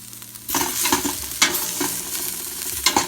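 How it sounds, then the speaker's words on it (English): Beef and flour fry in a pot for a stew, with a steady, close sizzle broken by the scrape of stirring at intervals, with no talking. "Just going to fry it for another minute."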